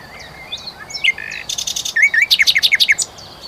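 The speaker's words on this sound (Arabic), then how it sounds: "يمتاز الذكر بصوت عال ومتنوع التصفير، خاصة في موسم التكاثر" A male Moroccan nightingale sings close by, a quick run of varied whistles and chirps ending in a rapid, evenly spaced trill.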